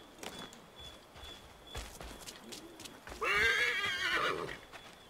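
A horse whinnies loudly in the Assassin's Creed III video game, a drawn-out neigh near the end that follows scattered hoof clip-clops and soft ambient noise.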